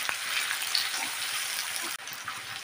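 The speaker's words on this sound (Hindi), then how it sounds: "प्याज डालना है और प्याज को सॉफ्ट हो जाए तब तक हम पका लेंगे।" Sliced onions fry in a pan until soft for a spicy bitter gourd and potato dish, giving a continuous close hiss and sizzle that briefly dips before resuming.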